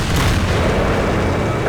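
A single tank cannon shot in an online tank battle game, a heavy, dense boom with a rumbling tail that fills the brief moment at close range.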